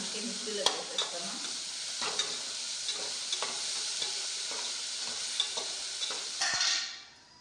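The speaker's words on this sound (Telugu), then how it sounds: "దీన్ని బాగా వేయించుకునేసాను" Tomato pieces for an Andhra-style chutney fry in a pan with a steady sizzle, punctuated by repeated spatula taps and scrapes, before the sound fades out.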